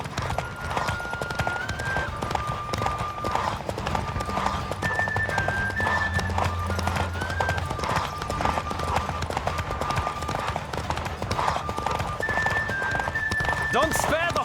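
In The Witcher 3, a horse gallops in a steady rapid hoof rhythm with an occasional whinny, over music and voices during a race.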